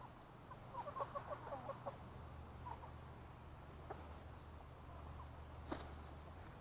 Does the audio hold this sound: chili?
no